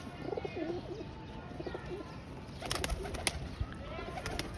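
Pigeons coo in soft, low, rolling calls close by, with a few brighter chirps and faint background noise over a steady hiss.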